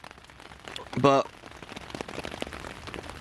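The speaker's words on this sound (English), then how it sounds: "And it is raining," Steady rain patters on a camping shelter on a wild camping trip in the Scottish Cairngorms, a continuous close hiss with a brief spoken word over it.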